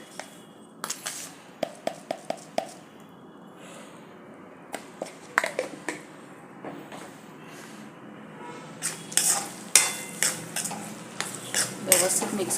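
A spoon clinks and scrapes against a pan while peas and potatoes are stirred in oil for an aloo matar paneer dish, the sharp taps coming in irregular bursts over a faint background.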